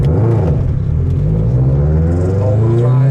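A 500-horsepower all-wheel-drive 2008 Subaru WRX accelerates hard, its loud, close engine note climbing steadily in a deep rumbling whir with no talk over it.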